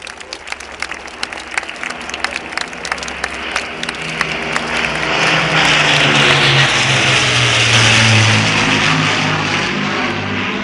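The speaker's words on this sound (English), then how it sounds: "Let's give them a round of applause" Crowd applause at a naming ceremony for locomotive 91110 with the Battle of Britain Memorial Flight, swelling into steady loud clapping in the second half over the drone of propeller aircraft.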